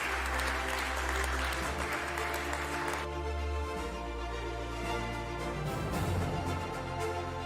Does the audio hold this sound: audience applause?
yes